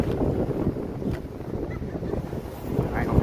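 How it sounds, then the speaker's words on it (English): Strong outdoor wind buffets the camera microphone in a steady, loud low rumble with gusty surges throughout, alone with no voices. "goddamn, it's pretty windy, man"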